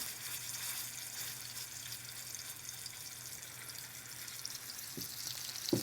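Elk meat sears in a hot pan with a faint, steady sizzle and hiss throughout, plus a brief clink near the end.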